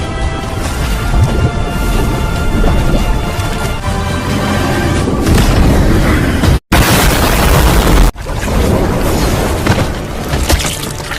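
A monster blows apart in a film's finale: a loud, sustained roaring explosion with crackling debris, cut by a brief silence near the middle, then a second thunderous burst that rumbles on heavily to the end.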